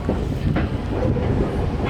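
A train at a station rumbles loudly and close by with low, continuous rolling noise, faint clatter and some wind buffeting, and no voices.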